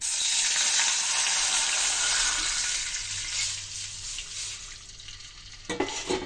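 Continuous bubbling and hissing of water boiling hard in a pan, with a few clinks near the end.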